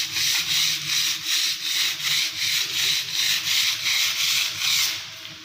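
Sandpaper rubs back and forth across dried wall putty on a wall, a close, loud rhythmic scratching of about a dozen even strokes with no talking.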